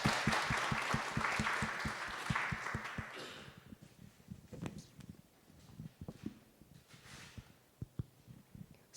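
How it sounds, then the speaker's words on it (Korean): An audience at a Korean-Japanese joint retreat's general discussion session applauds to welcome the third group, a dense burst that fades after about three seconds into scattered claps and quiet room noise. "박수로 환영해 주시기 바랍니다"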